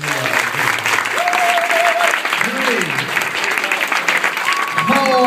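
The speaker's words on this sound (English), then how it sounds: "Give them a big round of applause." Audience applause after a hypnosis demonstration at a high school project graduation party, loud and sustained throughout, with whistle-like tones and voices calling out over the clapping.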